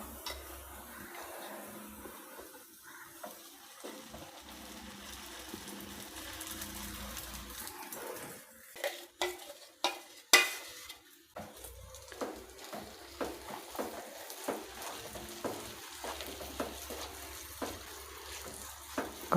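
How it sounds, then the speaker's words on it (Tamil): Batter being poured and stirred in a hot pan while making kara kolukattai, a spicy Tamil dumpling snack, with faint sizzling and scraping that grows into uneven stirring knocks and clatter partway through, close by and moderately loud. "இப்போ நம்ம இதில் அரைச்சி வச்ச மாவு ஊற்றிடலாம்"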